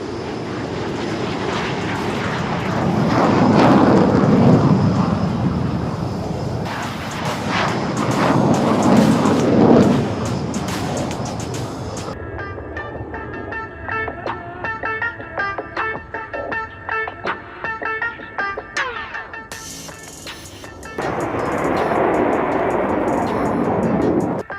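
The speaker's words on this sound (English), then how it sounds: "taking off right in front of you. It's a 9 aircraft display team." Nine-aircraft aerobatic display team jets taking off at the Aero India air show in Bengaluru, a loud, roaring engine rush that swells and fades, followed by a thinner whining hum from aircraft moving off.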